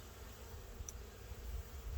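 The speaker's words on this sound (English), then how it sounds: "there's a good amount of bees in here" Honeybees hum in an open hive box of a colony recovering from laying workers, with drones present, a steady low buzz filling the two seconds alongside faint outdoor ambience.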